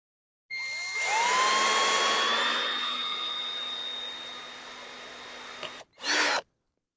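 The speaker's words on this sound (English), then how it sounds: "just drill a small pilot hole in here" A power drill whirs steadily for several seconds, its pitch rising as it spins up, then cuts off, followed by a brief second burst, drilling a 1/4 inch pilot hole in plastic.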